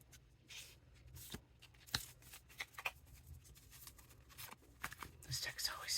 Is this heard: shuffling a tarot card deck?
yes